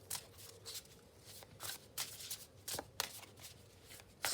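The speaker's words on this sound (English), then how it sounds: "I'm just going to pop down a card from the Sacred Forest Oracle" Oracle cards from the Sacred Forest Oracle deck being shuffled, a quiet run of soft riffling bursts and flicks repeating irregularly, close and faint with no talking.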